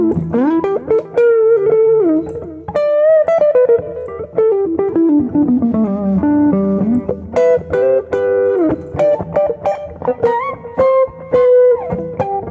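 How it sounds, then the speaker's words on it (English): An electric guitar on its neck pickup runs through a BOSS eBand JS-10 with reverb, playing warm, jazzy single-note lines and chords, loud and continuous with no talking. "Now the neck pickup sounds really good with the reverb."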